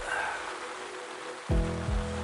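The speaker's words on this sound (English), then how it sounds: "Here comes the bloody rain again." Steady rain patters on the surface of a club lake during a spring carp fishing session, a constant broadband hiss with a brief louder low thump partway through.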